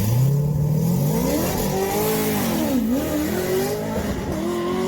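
A C6 Corvette with an LS2 V8 and FAST LSXR 102 intake runs hard down a quarter-mile drag strip, its engine note loud and rising steadily through the gears without pause.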